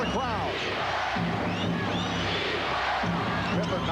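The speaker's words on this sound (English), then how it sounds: "The chant of defense from the crowd." The home crowd at a 1996 NBA playoff basketball game between the Chicago Bulls and the New York Knicks chants defense in a rhythmic, repeated two-beat call. The chant rolls through a loud arena roar while a commentator talks over it.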